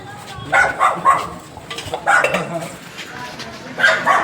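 Dogs bark in short bursts around hospital premises in Nabha, several yaps and woofs spaced across the moment, mixed with nearby talking.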